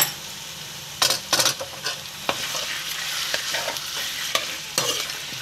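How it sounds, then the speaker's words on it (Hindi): Mutton pieces fry in hot oil with ginger and garlic paste, a steady sizzle broken by sharp scrapes and clatters of a spoon stirring the pan, close and fairly loud, with no talking. "और इस पर मैं मज़ीद 5 मिनट तक भूनूंगी तेल में।"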